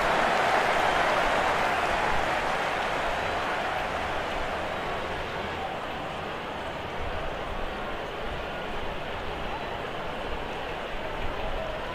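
A stadium crowd in Real Cricket 22 cheers a big six, a broad steady roar of massed voices that starts loud and slowly settles into a sustained murmur.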